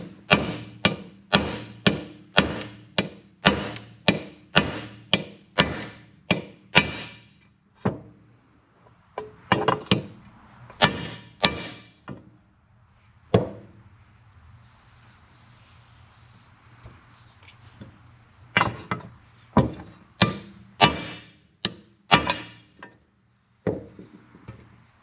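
A Harley-Davidson shaft seal is driven in with a cheap impact socket slightly larger than the seal, a run of sharp metallic taps in quick rhythmic bursts with short pauses between groups, close and loud.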